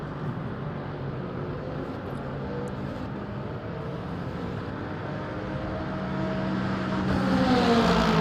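Lexus RC F LMGT3 race car engine at Fuji in Le Mans Ultimate, a continuous loud in-car roar that holds steady, then swells as the engine revs climb over the last few seconds.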